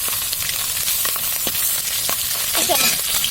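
Curry cooking in a pan on a home stove, a steady broad sizzle with scattered light clinks and scrapes of stirring throughout.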